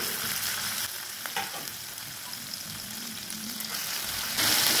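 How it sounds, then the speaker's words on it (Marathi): Ground cumin, mustard seed, garlic and green chili hit hot oil for a dill-leaf bhaji, giving a close, steady sizzle and crackle that swells louder in the final moments. "आपण हे वाटलेलं जिरा, मोहरी, लसूण आणि हिरवी मिरची हे आपल्याला तेलात टाकून घ्यायचे"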